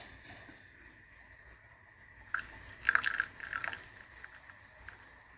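Freshly brewed Turkish coffee pours slowly from the pot into a single cup, a few soft liquid splashes and trickles after a quiet start.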